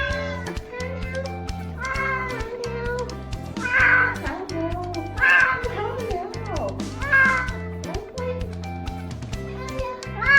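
A cat meows repeatedly in a bath-time setting, several drawn-out cries rising over background talk and children's voices.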